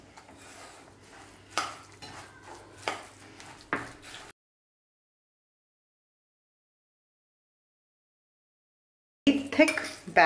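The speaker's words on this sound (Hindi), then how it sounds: "Give it a good mix." Oats cake batter with a little water added is stirred in a bowl, a spoon scraping and knocking against the sides for a few seconds before a silent gap and a brief return of clatter.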